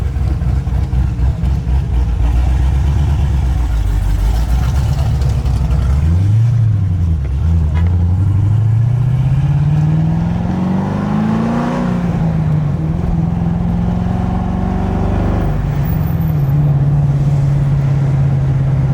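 A loud Gen 5 Dodge Viper engine drones steadily up close, its pitch rising and falling as it accelerates and shifts through gears.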